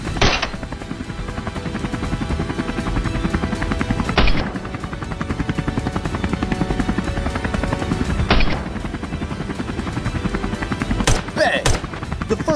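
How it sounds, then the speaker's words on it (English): Rifle shots fired while hunting a charging boar: sharp blasts ring out roughly every four seconds, with a final cluster near the end, all over a dense, steady rumbling din. "Bang! The first shot seemed to miss"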